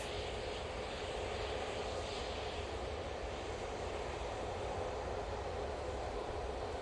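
A Boeing 787 Dreamliner jet departing Manchester Airport for Tenerife produces a steady, distant roar of engine thrust that holds evenly throughout, faint and with no talk over it.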